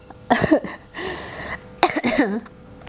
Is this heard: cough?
yes